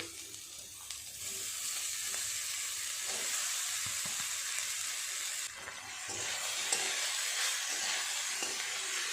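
Soaked flattened rice is stirred with vegetables and peanuts in a hot pan under a continuous hiss and sizzle, with soft scraping strokes and a brief dip in the sound midway.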